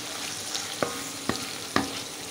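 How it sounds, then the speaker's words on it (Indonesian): Food frying in a pan while being stirred, a steady sizzle throughout with three sharp scraping strokes of the utensil spaced evenly apart. "Aduk sebentar, sebentar aja nih"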